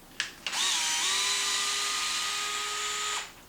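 A power driver whines steadily for about three seconds, backing 2.5mm screws out of the front bumper of a Traxxas Maxx RC truck, with a short blip before the main run; it is close and loud, with no talk.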